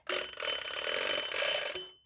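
A Westclox Scotland mechanical alarm clock bell rings in a fast, continuous metallic clatter, close and bright, then winds down and stops abruptly near the end. No one talks.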